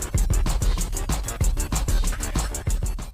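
The old Crazy Feet emote music from Fortnite, a fast, busy electronic loop with punchy, steady beats and bright hits, loud and continuous with no voices.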